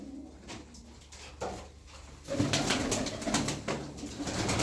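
Pigeons coo from a loft of fancy show birds, a low repeated cooing that swells and becomes denser and louder in the second half, with no talking.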